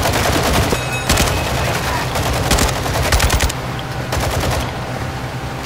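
Rapid automatic gunfire from Call of Duty: Modern Warfare II, loud, dense bursts of shots rattling over several seconds with brief pauses between volleys.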